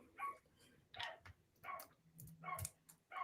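Three puppies playing right outside a window, giving faint, muffled yips and barks in irregular bursts with a light ticking or clicking between them, heard from a distance indoors.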